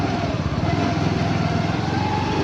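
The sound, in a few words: TVS Jupiter BS6 scooter engine starting after ignition and brake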